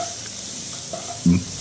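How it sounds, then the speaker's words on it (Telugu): Onions and curry leaves sizzling in hot tempering oil for a green egg curry, a steady close frying hiss with a brief louder flare near the end. "దాని తర్వాత మళ్ళీ మనం తాలింపు వేసుకోవాలి"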